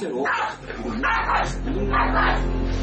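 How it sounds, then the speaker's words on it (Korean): A pet dog growls and whimpers in agitation at its own tail, with yips and low rumbling vocal bursts close up over a steady background hum. "계속해서 꼬리를 향해 으르렁거립니다"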